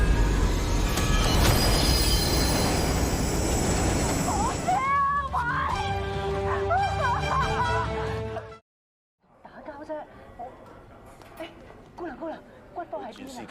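A train rumbles loudly for several seconds as it starts off and passes, then gives way to quieter sounds under a narrating voice.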